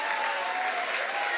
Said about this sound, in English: Ladies loving it. Clapping hard.